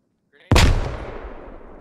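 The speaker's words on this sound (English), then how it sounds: "Grenade." A grenade detonates in the video game Squad: one loud, sharp blast after a faint lead-in, then a long rumbling decay.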